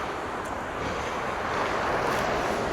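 Strong wind roars steadily past a parking vent on a bitterly cold Winnipeg street by Route 90, a dense unbroken rush with buffeting on the microphone.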